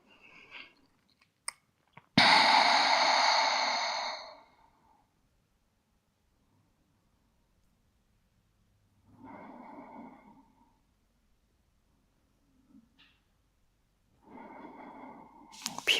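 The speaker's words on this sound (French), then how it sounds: "3 longues respirations dans la torsion." Long, slow breaths during a seated yoga twist in a vinyasa flow. There are three airy, close breath sounds spread across quiet gaps, with the first the longest and loudest and the later two softer and shorter.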